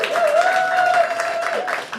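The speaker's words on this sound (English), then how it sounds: "Let's have a big round of applause." An audience at a Sunday church gathering applauds a singer after her performance, with scattered claps under a sustained tone and voices.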